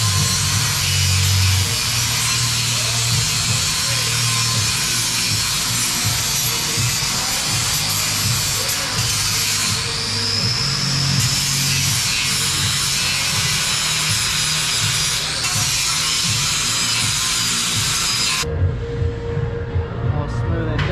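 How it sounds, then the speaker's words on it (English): A flap disc on an angle grinder runs loud and continuous against a steel drift control arm for a Mazda Miata, a dense harsh whine that cuts out near the end. "So now we're gonna hit this with the flap disc,"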